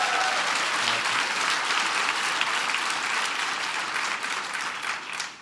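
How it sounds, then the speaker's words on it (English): A roomful of listeners at an Obama speech gives a big round of applause for Strive, sustained dense clapping that holds steady and then begins to thin out at the end. "So give Strive a big round of applause."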